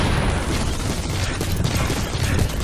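A Fulton cannon hit lands in Metal Gear Online as a dense, crackling burst of booming impact noise that stays loud and rough for under three seconds.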